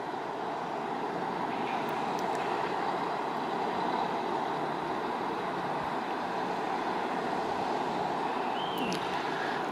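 An Intercity train hauled by a class 101 electric locomotive rolls into Leipzig Central Station with a continuous low rumble and steady electric hum, holding at an even level throughout.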